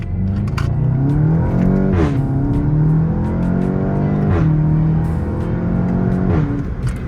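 A VW Golf 7.5 GTI TCR engine revs repeatedly while stationary, its loud, rumbling exhaust tone rising and falling in several blips, with crackles and pops between revs.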